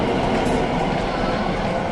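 A metro train rolls along in Bình Thạnh, Ho Chi Minh City, heard from inside as a loud, steady, dense rumble of wheels and carriage noise without a break.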